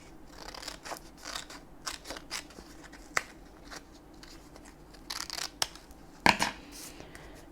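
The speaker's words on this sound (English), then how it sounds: "I'm using my sewing scissors to cut" Sewing scissors cut paper around an edge in a craft project. Close, crisp snips come in irregular runs, with a few louder crunchy cuts near the end and no talking.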